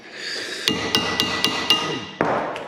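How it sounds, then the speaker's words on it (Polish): Six sharp metallic hammer blows on Citroën C3 car brakes ring out at a steady pace, close and loud, the last one landing after a short pause. "Wszystko młotkiem. Nic na siłę, tylko młotkiem."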